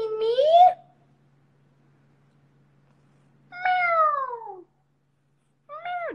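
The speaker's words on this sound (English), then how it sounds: "Meow." A cat meows three times, the cries separated by long quiet gaps, each a clear descending call with the last one short.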